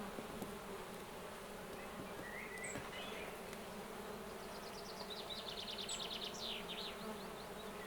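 Honeybees buzz steadily at a hive during the start of a honey flow. The dense, low insect drone is quiet and continuous, with occasional louder passes of individual bees and no voices.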